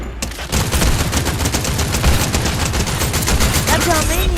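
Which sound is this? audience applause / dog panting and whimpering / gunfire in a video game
gunfire in a video game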